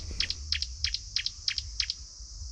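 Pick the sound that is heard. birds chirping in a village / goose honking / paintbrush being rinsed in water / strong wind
birds chirping in a village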